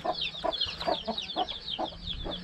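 Many chickens cluck and chatter together in a busy, overlapping flock, with quick repeated calls close by and a constant background murmur.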